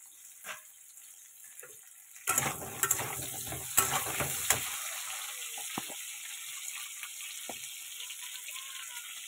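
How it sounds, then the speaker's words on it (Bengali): Potatoes frying in a pan give a steady close sizzle, joined partway through by a burst of louder stirring and scraping, then settling back to an even hiss with occasional light clinks. "আলুটাকে আগে ভেজে নিচ্ছি।"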